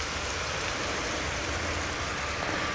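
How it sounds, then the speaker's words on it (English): Cream sauce bubbling and reducing in a pan after the extra fat is drained, part of a Thanksgiving dinner: a steady, close, hissing sizzle and fizz that continues evenly throughout with no voices. "I'm gonna let that kind of bubble and reduce down a couple."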